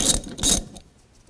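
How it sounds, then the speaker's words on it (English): Ratchet socket wrench with a 14 mm socket loosening a nut on the front strut assembly of a 2004–2010 Toyota Sienna: a couple of quick, close metallic clicking bursts, then quiet. "Use a 14 millimeter socket. Take this nut off."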